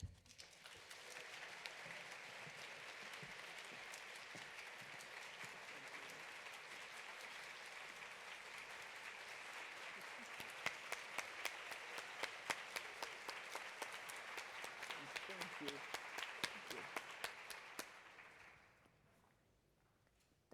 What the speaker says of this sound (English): what a round of applause and a standing ovation to begin with